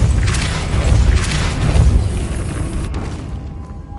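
A Depulso force spell cast in the Hogwarts Legacy video game, a loud, booming whoosh with a rumbling low burst that swells twice and then fades away.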